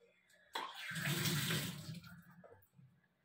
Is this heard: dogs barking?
no